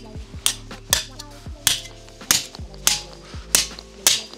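A Pulsa 40P gas-powered nail gun firing nails, seven or eight sharp close cracks at a steady half-second rhythm, each followed by a short ringing tail.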